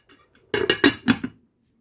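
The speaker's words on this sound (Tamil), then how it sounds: "நான் கொஞ்சம் நேரம் மூடி விட போகிறேன்" A metal lid is set onto a pot of chickpea curry with tomatoes, making a quick cluster of four or five clanking, ringing knocks close by, with no talking.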